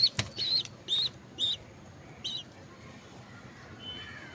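A pet bird being offered feed gives about five short, clucking calls in an irregular series, fairly close and clear against a quiet background.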